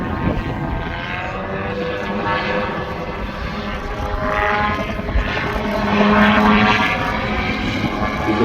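A gyrocopter flying a display at the Midlands Air Festival 2024, its rotor and propeller engine droning steadily and growing slightly louder as it passes.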